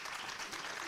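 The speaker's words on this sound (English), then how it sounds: "let's give everyone a welcoming round of applause for coming to visit this campus" A crowd of students and visitors at Bowie State University breaks into a welcoming round of applause, steady and dense clapping filling the room for a brief moment with no voices on top.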